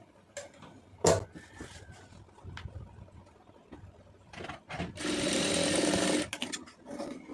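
A sewing machine stitches two pieces of fabric together while piping is sewn, with a sustained burst of steady whirring mid-clip and scattered handling clicks and bumps around it.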